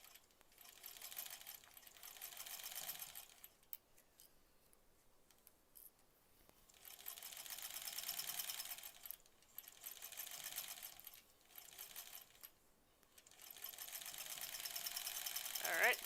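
Domestic sewing machine stitching quilt blocks together, soft whirring runs of a few seconds each separated by pauses, quiet and close.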